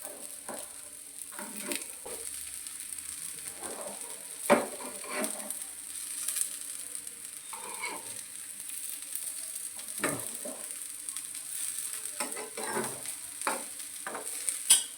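Potato and snake gourd filling frying in oil in a pan, with a steady close sizzle and several scraping, clattering flips of a spatula against the metal.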